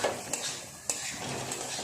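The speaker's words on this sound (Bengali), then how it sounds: "সমস্ত মশলার সাথে আলু আর পটল এইভাবে একটু কষিয়ে নিয়েছি" Fried potatoes and pointed gourd sauté in a spice paste, giving a steady sizzle close by, with a couple of sharp clinks and scrapes from a utensil stirring against the pan.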